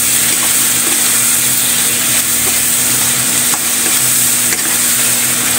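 Tomatoes cooking in a pan for squid adobo, a steady loud sizzle and frying hiss with faint stirring clicks, continuous throughout with no talking.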